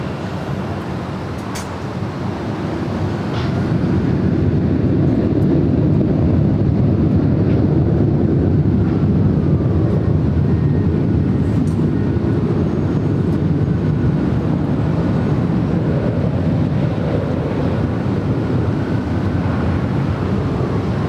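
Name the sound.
Delta Airlines Boeing 737-900ER taking off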